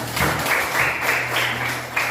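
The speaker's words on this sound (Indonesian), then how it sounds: "tepuk tangan untuk Desi" Brief applause in a classroom, a couple of seconds of clapping from students, moderately loud with a low steady hum running underneath.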